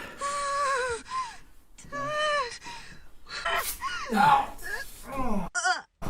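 A panicked person gasps and moans while struggling to breathe, with sharp strained intakes and wavering distressed vocal sounds broken by short pauses.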